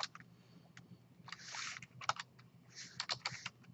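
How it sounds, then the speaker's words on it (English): Keystrokes on a computer keyboard as a number is typed in, a few quiet scattered clicks and short bursts of tapping, close by with no talking. "I can type in a number,"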